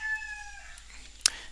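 A rooster in the Bali countryside gives a short, faint crow with a sharp click-like noise near the end, alone in a quiet setting.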